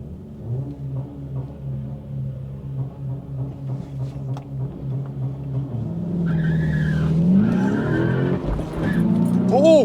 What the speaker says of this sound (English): Oh, he's doing a burnout.